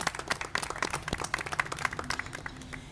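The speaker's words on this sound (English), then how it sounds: "Please give them a warm round of applause," Audience applause at a Thanksgiving dinner event in San Antonio, a dense patter of many hands clapping at moderate distance, steady through the whole stretch with no voices over it.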